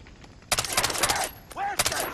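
Gunfire from above in the video game Far Cry 3, a burst of rapid shots followed by a second volley after a brief gap, sharp and fairly close.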